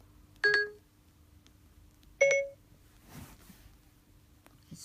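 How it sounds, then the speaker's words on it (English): Two short electronic beeps from an iPhone 7 Plus in Rose Gold as voice control activates on pressing the phone button, clear and close, spaced about two seconds apart with faint handling noise afterward. "I don't know why it's going to voice control every time I try to press the phone"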